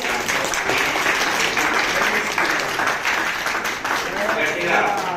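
An audience at a book launch claps steadily, a dense, even patter of applause with voices mixed in.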